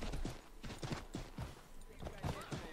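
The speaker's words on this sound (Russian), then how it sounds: "здесь уже без лошади не обойтись, поэтому мы давайте, пожалуй, ее призовем сейчас" A summoned horse's hooves clop on a street in Assassin's Creed 3, a quick, fairly faint, steady series of rhythmic thuds over game ambience.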